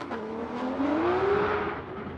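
A BMW drift car's engine roars steadily on a qualifying run at Formula Drift Irwindale, loud and sustained with a rising pitch as it holds revs through a bank.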